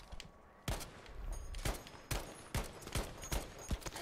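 Semi-automatic rifle fire in Battlefield 5, a series of sharp, loud gunshots in irregular bursts, roughly eight to ten reports with short gaps between them, over a faint background of distant battle noise.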